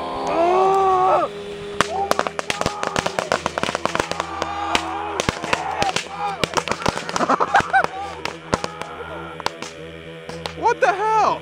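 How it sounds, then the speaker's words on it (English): Fireworks exploding at night on a camping trip, a rapid string of sharp cracks and bangs of varying loudness over about ten seconds, with people's voices heard in between. "Here comes the fireworks."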